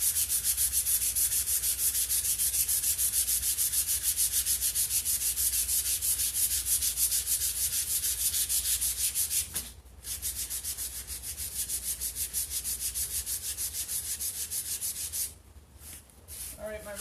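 Sandpaper of 220 grit rubbed by hand over painted wooden furniture, a steady, close scratchy hiss of rapid back-and-forth strokes that runs continuously, with two short pauses near the end.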